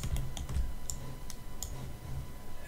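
Quiet, steady keystrokes on a computer keyboard, a run of light clicks in an irregular rhythm, close and soft with no talking.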